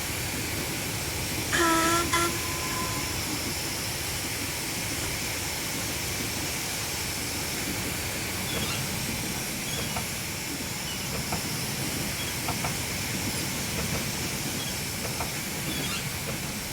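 A narrow gauge steam locomotive on the Bala Lake Railway in Train Simulator runs with a constant loud hiss and rumble, a brief whistle-like tone near the start, and faint rhythmic rail clicks later.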